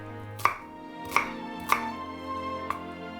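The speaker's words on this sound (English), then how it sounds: "Cut the onions into chunks." Knife chopping onions into chunks on a board: four sharp, distinct cuts at an uneven pace, close and clear over a quiet kitchen background.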